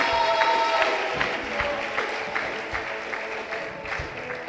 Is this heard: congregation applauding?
yes